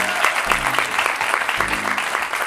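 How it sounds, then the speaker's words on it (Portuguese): A live audience at a stand-up comedy show applauds loudly and continuously, a dense wash of clapping filling the room. "Recebam com um enorme aplauso Ruben Branco."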